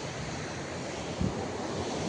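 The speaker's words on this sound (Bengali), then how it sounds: "কত সুন্দর জোয়ার আসছে" Sea waves roll in at a beach in Tajpur as the evening tide rises, a steady broadband surf wash with wind buffeting the microphone and one brief swell of a breaking wave.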